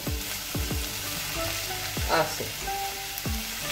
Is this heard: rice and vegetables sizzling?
yes